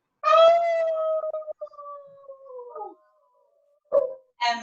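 A voice imitates a wolf howl during a zoo-themed kids' yoga session, one long wavering falling howl lasting a few seconds, followed by a short cry and a brief voice after a pause.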